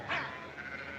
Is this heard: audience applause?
no